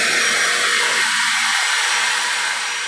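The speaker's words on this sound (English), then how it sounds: "And the vacuum actually runs for a few seconds after the tool has flipped off." A shop vacuum hooked to a miter saw's dust collection whines steadily and loudly at close range, its low rumble dropping away partway through while the high roar continues.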